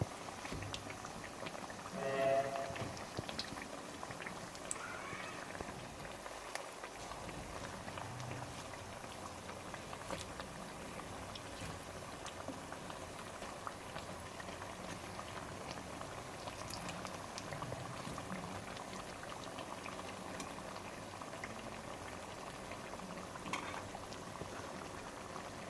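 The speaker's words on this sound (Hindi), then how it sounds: "हमारे पकौड़े अच्छे से फ्राई हो गए हैं" Mayo pakoras fry in a pan of oil with a continuous bubbling hiss that stays soft and even throughout, heard alone with no talking.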